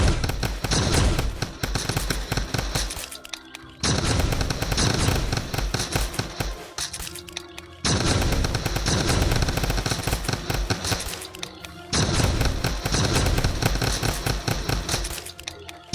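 Gunfire in the Roblox game Bizblox, dense rapid bursts of loud shots in long sustained runs separated by brief breaks, with heavy low booming underneath throughout.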